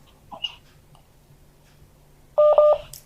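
Phone line tones sound during a live call-in broadcast: a few faint isolated blips, then a loud short burst of touch-tone dialing beeps near the end, with no talk.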